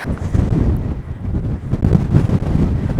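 Strong gusts batter the microphone outdoors at a scenic overlook with petroglyphs, a loud, rough, continuous low rumble that swells and dips without pause.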